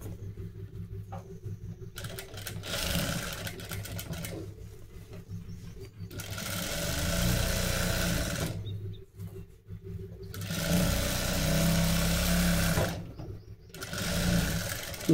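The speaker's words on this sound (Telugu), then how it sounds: "ఇప్పుడు మనం ఏం చేద్దామంటే ఈ ఒరిజినల్ అండ్ లైనింగ్ స్టిచ్చింగ్ చేసేసుకోవాలి" A sewing machine stitches the original fabric to the lining of a boat-neck blouse back. It runs in several loud, sustained bursts separated by short pauses, with no voices.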